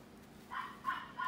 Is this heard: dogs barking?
yes